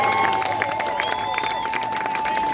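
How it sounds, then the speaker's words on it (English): An outdoor crowd at a haunting walk event claps and cheers for volunteers, with a steady tonal hum and chatter mixed into the lively, moderately loud applause. "Let's give them a round of applause."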